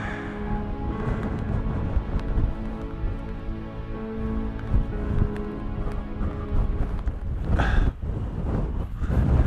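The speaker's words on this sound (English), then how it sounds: "The wind again has picked up." Strong wind gusts across a hill summit in the North Pennines, buffeting the microphone in uneven surges with a sharper blast near the end.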